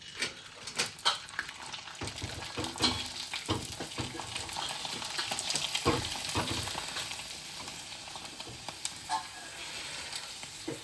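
Rice and finger millet papads frying in oil, a faint continuous crackling sizzle broken by occasional stirring scrapes, heard alone without talk.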